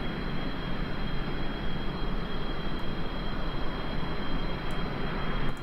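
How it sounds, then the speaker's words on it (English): A video-game aircraft in Kerbal Space Program roars in a dense, steady engine rumble as it climbs away after takeoff, loud and continuous, with a few faint ticks and no voices. "Nice gentle takeoff."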